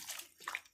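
Water is poured into a cooking pot in a short, faint splash and trickle lasting under a second, heard on its own without talk.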